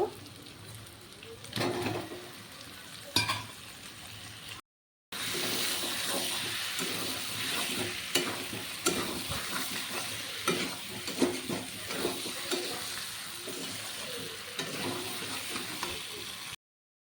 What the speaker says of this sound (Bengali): এখানে আমি এখন ভেজে রাখা আলুগুলো দিয়ে দেব